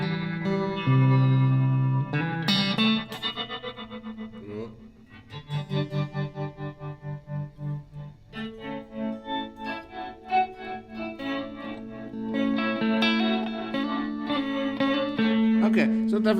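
Guitar run through a Meris MercuryX reverb pedal, sustained chords and notes smeared into lush, modulated ambient tails with chorus-like shimmer and rhythmic swells, loud and continuous.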